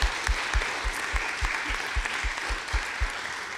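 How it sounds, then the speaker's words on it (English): Audience at a community water summit in Wolfeboro gives a round of applause for event sponsors, steady hall-filling clapping with regular low thumps pulsing beneath it. "they all deserve a round of applause for supporting this event"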